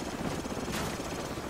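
Helicopter in the video game Call of Duty 4: Modern Warfare, a steady rotor drone with a broad noisy wash holding at an even level, briefly swelling midway as if passing closer.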